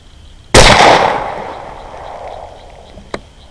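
A single sharp rifle shot cracks out loud and close, then rolls away in a long fading echo across open ground during a beaver hunt, with a faint click near the end.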